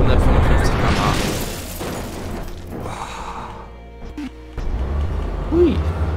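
A car slams into an obstacle in the BeamNG.drive driving game, a loud crunching impact with rattling debris, followed by engine noise and a German-speaking player's voice talking over it.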